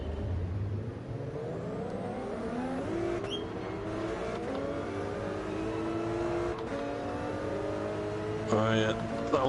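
Lamborghini engine in Gran Turismo 7, racing in PSVR 2, revs through rising and falling gear sweeps over steady game engine and tire noise, with people talking over it throughout.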